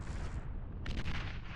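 A heavy naval cannon shot booms in a naval strategy video game, one deep loud blast followed by a rumbling crack and a fading tail.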